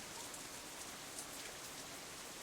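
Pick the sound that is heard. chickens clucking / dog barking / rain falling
rain falling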